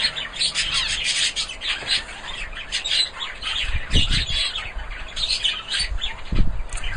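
Zebra finch adults and chicks chirp in quick, overlapping bursts close by, with soft wing-flapping thuds mixed in throughout.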